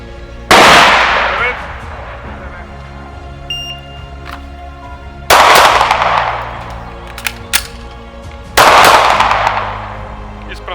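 Pistol shots at a practical shooting match ring out as three sharp, loud reports spaced a few seconds apart, each with a short echoing decay, with faint background noise between them.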